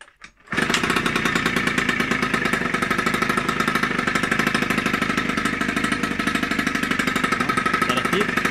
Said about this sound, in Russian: А так, ничего, нормально тарахтит.